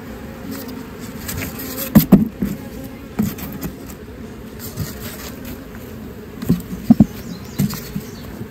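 Honey bees buzz around beehive frames during a hive split, a soft steady drone with a few sharper close passes and wing flicks near the microphone, no talking heard.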